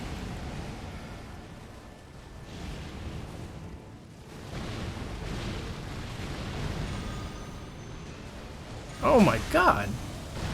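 Deathbird's explosion attack in Elden Ring bursts loudly near the end as a sharp crackling blast over a steady game soundscape, with a man exclaiming in alarm just before.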